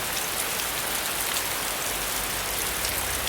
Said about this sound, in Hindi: फिर बारिश कड़ाके होने लगती है।